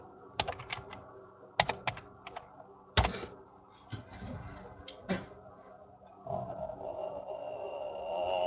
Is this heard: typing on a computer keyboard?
yes